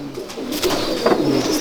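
Breeder pigeon cooing close by, soft low throaty coos repeating over a steady background hum for under two seconds.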